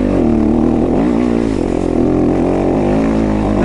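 Dirt bike engines running near the microphone, a loud, steady droning rumble with slight wavering pitch throughout, no voices over it.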